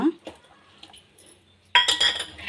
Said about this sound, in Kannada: ಎಲ್ಲವನ್ನು ಸ್ವಲ್ಪ ಮಿಕ್ಸ್ ಮಾಡೋಣ.